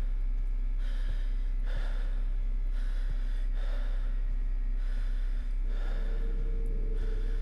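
In the horror game Backrooms, a character breathes heavily in slow, deep, regular gasps, close and prominent, over a steady low hum.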